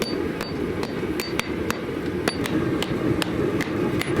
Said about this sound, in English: Jamie has not swung a hand hammer on a hot piece of steel in a long time